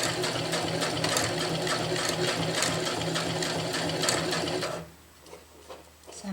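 Close sewing machine stitching through layers of fabric for a water bottle carrier, a fast rhythmic clatter running steadily for about five seconds before stopping, leaving quiet handling noise.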